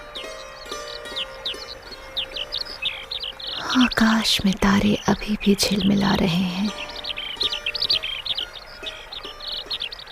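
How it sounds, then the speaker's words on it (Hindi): Birds chirp and tweet in a dense chorus before dawn at the end of a moonless night, the calls steady throughout and partly covered by someone speaking in the middle. "पक्षियों का कलरव बता रहा है"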